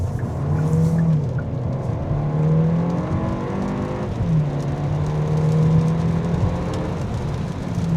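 Kia K4 hatchback GT-Line with turbo engine accelerating at full throttle on a highway, heard from inside as a loud, steady engine drone that climbs in pitch, drops at a gear change, then climbs again over road and wind noise.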